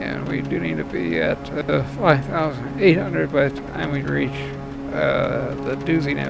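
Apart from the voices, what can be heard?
None of the usual background noises is heard.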